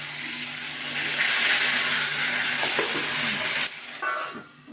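Green chili paste fries loudly in a pan with a steady hiss and spatter for about four seconds, then drops sharply as a lid covers it, leaving a quieter muffled sizzle.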